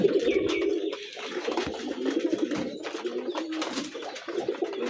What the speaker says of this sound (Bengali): এই কবুতরটি এবার একটা ডিম পারছে।